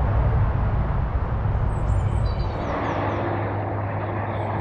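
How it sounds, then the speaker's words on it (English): Distant M1 motorway traffic beside the Watford staircase locks on a canal, a steady low broadband rumble that continues without break, with faint bird calls high above it outdoors. "You can hear the M1 rumbling in the background."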